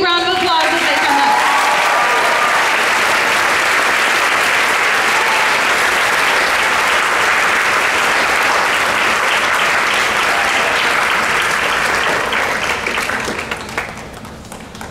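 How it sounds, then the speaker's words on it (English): Sustained, dense audience applause for award recipients at a school awards ceremony, loud and steady for about twelve seconds before tapering off, with a few voices faintly mixed in early on. "Give them a big round of applause as they come up."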